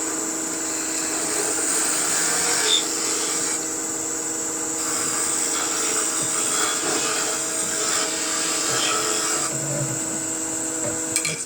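A spindle gouge turned on its side bores into a spinning wooden birdhouse ornament on a lathe, giving a steady scraping whir over the motor hum that runs unbroken and fairly close throughout.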